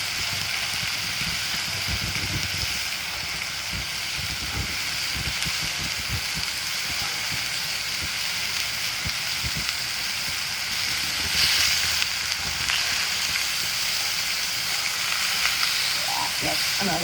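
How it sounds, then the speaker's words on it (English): Chuck roast sears on a Blackstone flat-top griddle, a constant close crackling sizzle with small pops and spits over a low background hum. "I'm going to let it sear just a little bit longer."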